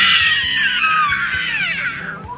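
A human voice imitates a panther's scream, a loud, shrill, drawn-out wail that slides slowly downward in pitch over about two seconds.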